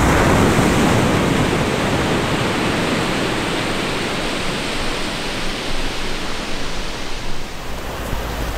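Steady ocean surf washing onto a beach on a remote Hokkaido coast, a broad continuous roar of breaking waves, loud and close at first and easing slightly, with wind rushing across the microphone and no voices.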